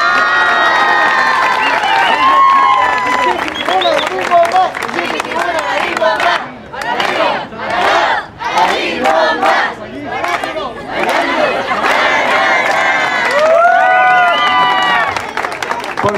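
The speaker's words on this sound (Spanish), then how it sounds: "un aplauso para los muchachos." A crowd at a folk ballet exhibition from San Luis Potosí in Puruándiro cheers, whoops and shouts for the dancers, with loud sustained clapping; the roar dips briefly midway before swelling again with high cries.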